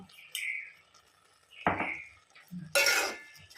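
Tomatoes and salt are stirred in a cooking pot for gongura pachadi, with a few distinct metallic clinks and scrapes of a spoon against the pot, spaced irregularly and fairly close.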